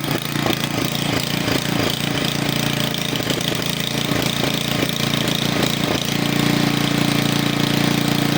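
A Honda walk-behind tractor engine runs steadily and loud up close, a continuous rattling, knocking idle with a slight rise in pitch toward the end.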